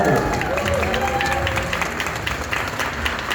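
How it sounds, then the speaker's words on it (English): Wedding guests give a round of applause welcoming the bride and groom at an Indian wedding, a steady wash of many hands clapping with some crowd noise and a voice faintly beneath. "The big round of applause to welcome them"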